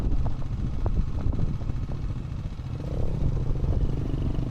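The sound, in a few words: motorcycles approaching on mountain road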